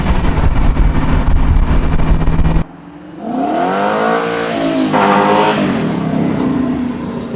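A BMW E36 with a swapped LS3 V8 revs hard through wheel spin, its loud, close engine note climbing and sweeping up and down after a short roar and a sudden break.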